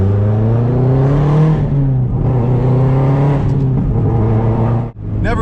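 Straight-piped 2004 Subaru WRX STI accelerating hard, a loud, close, raspy exhaust note climbing steadily through the revs, dipping briefly near the end before pulling again, with no talking.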